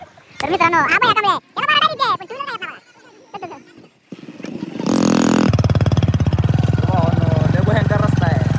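A two-wheeler motorcycle rides along a rough farm track, its engine chugging loudly and steadily in the second half after a stretch of people talking.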